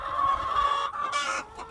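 Free-range chickens on a farm cluck and squawk loudly and close by, a busy overlapping flock chatter with a sharp burst of calls near the end.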